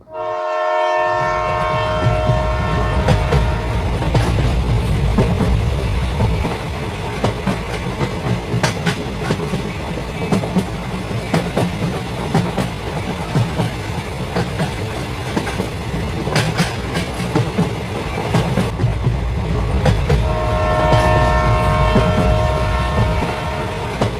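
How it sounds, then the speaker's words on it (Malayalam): A train rumbles past up close with steady clattering, its loud horn blaring at the start and again near the end. "അതാ വീണ്ടും ട്രെയിൻ."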